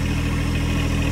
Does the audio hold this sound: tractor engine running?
yes